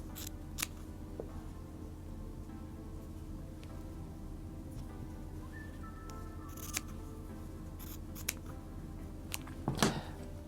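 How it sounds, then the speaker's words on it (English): Scissors cut through a cotton T-shirt, making faint, scattered snips with a sharper crunching cut near the end in a quiet room. "take your time when using the scissors as well"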